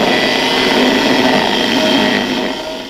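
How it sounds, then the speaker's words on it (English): Angle iron being cut with a power tool while stripping down a 1967 VW Beetle, a loud, continuous grinding whine that holds steady for nearly three seconds before easing slightly at the end. "All the angle iron's being cut now"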